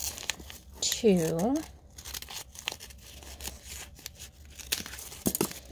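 Scissors snip and crinkle through a piece of duct tape for a craft project, with a short crinkly cut amid light handling noise while a person speaks briefly.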